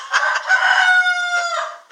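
A rooster gives one loud, close crow lasting about two seconds, with a drawn-out tone that falls away at the end and no talking over it.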